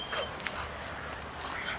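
An 8-year-old German Shepherd whimpers softly in short, high whines over a dull background hum, no speech, the cries faint and intermittent.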